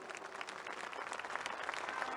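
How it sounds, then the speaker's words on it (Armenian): An audience at a political rally applauds in continuous, even clapping that stays moderately loud throughout the brief stretch. "Եկեք հատուկ ծափարենք նաև այդ դատավորներին։"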